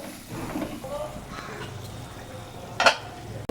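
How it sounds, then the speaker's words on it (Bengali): Spice paste mixed with yogurt being stirred in a pan for fish curry, giving soft, irregular scraping and mild sizzle under a low background, with one sharp clink of a utensil near the end. "এখন এর মধ্যে দিয়ে দেবো টক দইটা এবার মধ্যে দিয়ে ভালো করে কষাবো"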